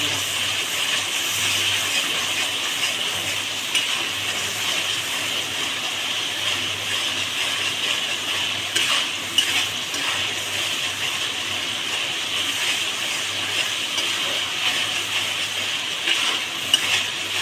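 Pangas fish frying in hot oil in a pan while being stirred, a steady close sizzle with soft scraping and occasional light clinks throughout.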